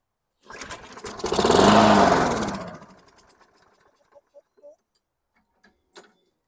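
A junk lawn mower engine is cranked once, giving a rising, loud mechanical whir that fades into a string of sputtering pops and then silence.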